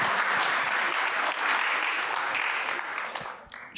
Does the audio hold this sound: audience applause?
yes